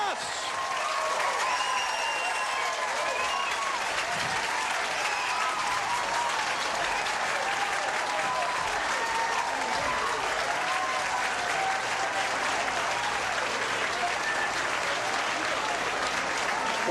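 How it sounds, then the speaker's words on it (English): Loud, sustained applause and cheering from a bowling crowd at a 1992 PBA senior tournament after a perfect 300 game, a dense wash of clapping that holds steady and even from start to finish. "Crowd rooting it on, got it inside!"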